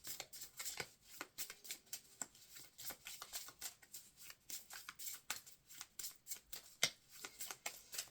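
Tarot cards being shuffled and cut by hand, a steady run of crisp riffling snaps and soft slides at close range, with no voices, fairly quiet overall.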